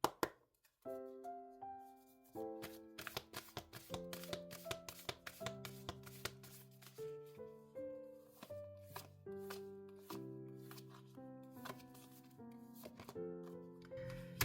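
Oracle cards are shuffled by hand in a steady series of soft, close riffling taps and plops over calm background music, with no talking.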